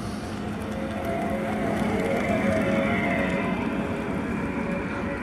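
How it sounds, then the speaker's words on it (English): A 2012 Fisker Karma EcoSport EVer plug-in hybrid emitting its low-speed pedestrian warning sound, a steady, continuous synthetic hum with no breaks, heard alone without talking. "low speed sensors that you can hear so that folks that may have hearing issues or whatever would be able to hear the car."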